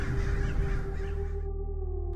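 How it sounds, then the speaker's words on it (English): A huge flock of American crows caws at twilight near a hospital parking garage, many harsh overlapping calls filling the air before thinning out toward the end. "Thousands upon thousands of these American crows swarmed the entrance"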